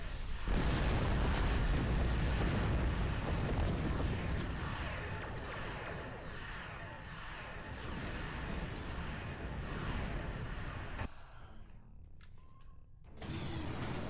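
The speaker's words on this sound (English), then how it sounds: "It's great when they are all together and explode because you know that their explosions are also killing the other ones" Video game explosions rumble and boom in a thick, continuous barrage, heavy and loud for most of the stretch, then a brief drop into near silence before another blast kicks in.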